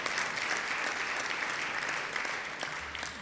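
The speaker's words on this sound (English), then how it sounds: "Let's give them a round of applause." Applause from attendees at a Rotary club meeting, a steady, even patter of many hands clapping, fairly quiet and distant-sounding, fading slightly toward the end with no voices.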